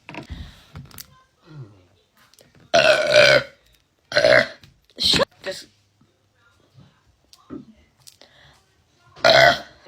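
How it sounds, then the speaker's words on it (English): A woman lets out several loud, close burps in short bursts, some long and some clipped, with a few brief spoken words between them. "You can burp better?"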